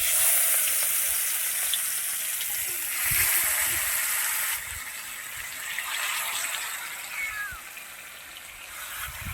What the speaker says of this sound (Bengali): আমার তেলটা গরম হয়ে গেছে। এবার মাছটা আমি এক এক করে সাজিয়ে দিচ্ছি।